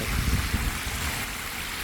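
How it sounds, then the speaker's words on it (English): Hot water rushes down a steaming waterfall at the Te Puia geyser park in Rotorua, New Zealand, making a dense, continuous roar of falling water. "Hot, steamy waterfall."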